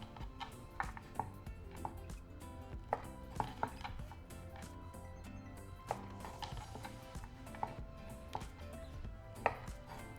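A knife chops through a stack of corn tortillas on a board, cutting them into strips with quick, irregular taps and thuds in a quiet kitchen.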